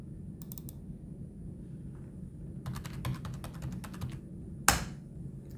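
A password is typed on a computer keyboard in short bursts of quiet clicking keystrokes, then Enter is pressed with one sharper, louder tap, close-up against a low background hum.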